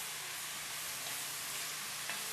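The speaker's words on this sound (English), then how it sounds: "See, my onions are cooking up nice. And then in with the fennel." Onions and fennel cook in a pot, giving a steady, soft broadband sizzle with faint stirring scrapes, fairly quiet and continuous with no talking.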